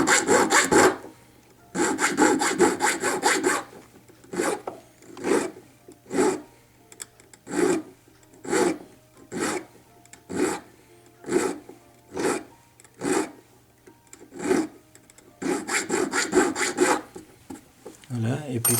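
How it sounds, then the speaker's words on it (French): A square hand file rasps hard into a saw cut in precious metal during sculpting of a solid ball, loud close strokes first in a rapid cluster, then slower evenly spaced single passes, then another fast flurry. "je vais simplement avec une lime carrée commencer à limer fortement dans le trait de scie"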